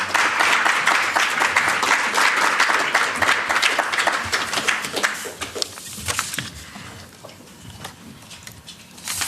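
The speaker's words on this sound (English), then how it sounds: "An applause for all." A room of people gives a round of applause at an agricultural policy conference. The clapping starts dense and steady, then thins into scattered claps and fades over about nine seconds.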